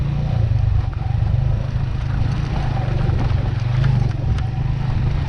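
A motorbike speeds along a mountain road through Broghil Valley toward Karambar Lake, its engine a loud, steady low drone with continuous wind and road roar close by, no talk.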